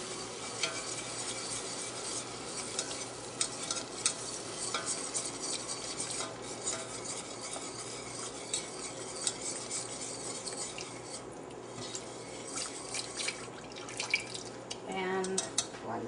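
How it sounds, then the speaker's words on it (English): Gravy is whisked in a pan with portobello mushrooms and onions for a turkey meal, a continuous busy scraping and clinking of a whisk against metal over a soft background hiss. "Slowly, I'm going to start adding my gravy to the pan and whisk"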